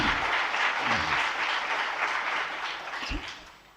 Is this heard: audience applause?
yes